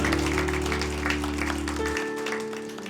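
A church congregation at a Sunday worship service claps together in a steady, dense wash of applause over sustained music, which fades out partway while the clapping carries on.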